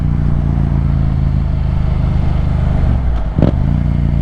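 A Yamaha FZ-07 motorcycle cruising, its engine holding a steady loud droning hum throughout with a brief dip and clatter near the end, no voices.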